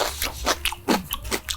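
Crunchy hot garlic pickles bitten into and chewed close up: several sharp, wet crunches in quick succession, loud and near, with no voices.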